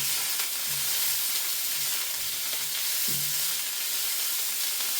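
Bacon and sausages sizzling steadily in a frying pan, a constant close hiss with faint scrapes as the meat is turned, no one speaking.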